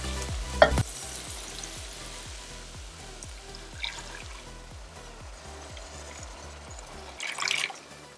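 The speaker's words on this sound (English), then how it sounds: "Keep stirring on medium heat." Kidney bean curry is stirred in a pan over medium heat, with a spoon scraping through the thick mixture in a steady repeating rhythm under a faint sizzle, plus a couple of louder clanks.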